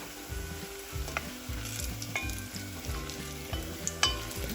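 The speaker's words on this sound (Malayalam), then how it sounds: "ഇതിനകത്തേക്ക് ബാക്കി സാധനങ്ങൾ ചേർത്ത് ഫ്രൈ ചെയ്യുന്നു" Parsnip fries sizzling in a pan, a steady close frying crackle with regular stirring scrapes and occasional spatters, no voices.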